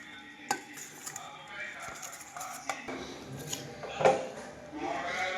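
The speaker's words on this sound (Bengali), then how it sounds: "কেটে নিচ্ছি রসুন আর আদা একদম কুচিয়ে কুচিয়ে" A knife chops garlic and ginger finely on a board, giving scattered taps and clicks, some louder than others, under a voice speaking nearby.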